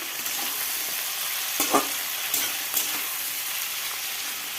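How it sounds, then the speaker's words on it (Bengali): Potatoes and onion stalks frying in a pan, a steady hiss with a few brief stirring scrapes. "তো এখন এই যে আলু আর পেঁয়াজ কলি ভাজা করছি।"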